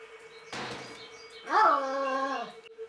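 A dog close by lets out a short whining bark that rises in pitch and then holds as a drawn-out tonal yelp. Indoors, with a steady hum in the background and a brief rustle just before.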